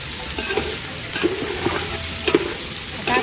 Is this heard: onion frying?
yes